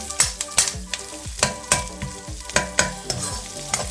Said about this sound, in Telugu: తర్వాత నేను curry leaves, onions, green chilli వేసుకున్నాను. ఇది కూడా కొంచెం ఫ్రై చేసుకున్నాను అనమాట.